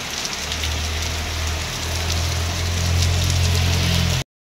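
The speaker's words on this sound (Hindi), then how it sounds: "कितनी खतरनाक बारिश हो रही है।" Heavy rain pours steadily onto surfaces in Uttarakhand, a dense continuous hiss with a low rumble beneath, loud and unbroken, with no voices.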